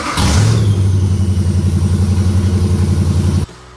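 A 1968 Dodge Charger with a Hemi engine cranks and fires, then settles into a loud, close, lumpy rumble with a steady pulsing beat for about three seconds before cutting off abruptly.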